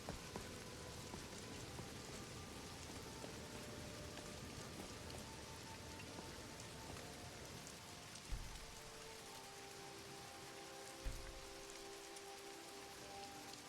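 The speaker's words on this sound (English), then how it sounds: "Let's see if we can wait out this rain here." Steady rain falls in Skyrim with the Lost Legacy mod, a constant soft hiss of drops on surfaces with a couple of brief low thumps and faint tonal game ambience underneath, no voices.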